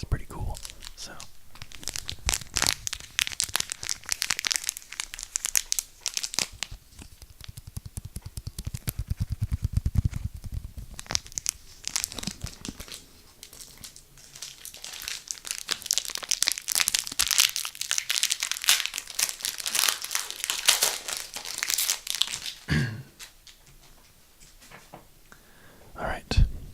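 Crinkling and tearing of a foil Magic: The Gathering Dark Ascension booster pack wrapper being opened up close, with bursts of crackling plastic and rustling under soft whispered talk.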